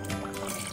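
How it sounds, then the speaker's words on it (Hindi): About half a cup of water is poured into a pot of mutton and potato curry, a brief, close, splashing trickle lasting under a second with no talk. "अब इसमें हम आधा कप के करीब पानी डालेंगे।"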